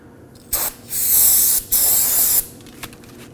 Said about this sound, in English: Spray some brake parts cleaner